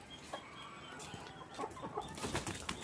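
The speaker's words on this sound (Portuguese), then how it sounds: "Estão as galinhas." Chickens and a rooster in a backyard cluck in short, soft bursts against faint outdoor background noise, growing slightly busier toward the end.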